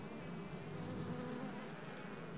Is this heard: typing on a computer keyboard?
no